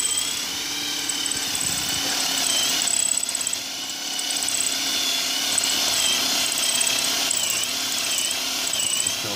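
Battery-powered drill boring out a stripped wheel bolt on a GTI, a steady, loud, high-pitched whine running throughout with slight wavering in speed, no voices.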